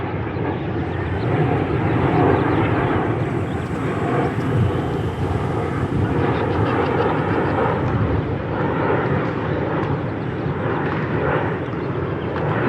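Kootai Ki84 Japanese warbird sub-250g micro RC plane flying low overhead, a continuous buzzing electric motor drone with slight swells in pitch and loudness, steady and fairly close, no talking.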